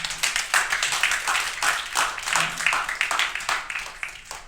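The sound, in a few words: audience round of applause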